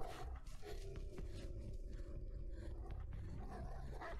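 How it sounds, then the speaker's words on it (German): A dog growls low and continuously in the game Beyond: Two Souls, a rumbling snarl that holds steadily for several seconds with no talking over it. "Dass uns jetzt noch ein Hund erwischt"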